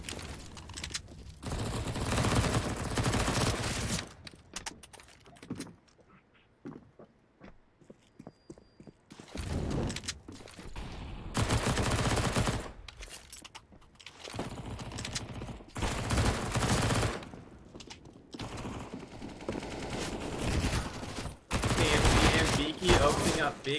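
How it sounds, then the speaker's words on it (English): Counter-Strike esports match gunfire from MP9 submachine guns and a Galil rifle: dense bursts of rapid shots and fusillades in repeated loud waves over about twenty seconds, with brief quieter gaps between exchanges. "Braun returning fire with that Galil."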